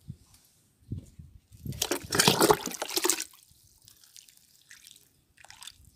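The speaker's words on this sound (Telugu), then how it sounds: "సో వీటికి ఇప్పుడు మనం వాటర్ అయితే ఇచ్చేద్దాము." Water poured onto fresh soil around newly planted saplings, including a fig plant, gives a splashing, trickling burst in the middle, with faint drips before and after.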